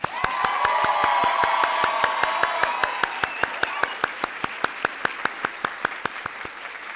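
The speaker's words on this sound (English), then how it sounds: "Please join me in a round of applause for their stellar stewardship of the class of" A commencement audience applauding, with dense clapping and some cheering and whoops at first, thinning to a steady, evenly spaced rhythm of individual claps as it winds down.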